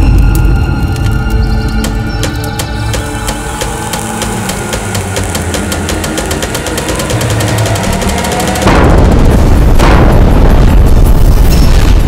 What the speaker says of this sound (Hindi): ये इस्माइल खान की तोप है।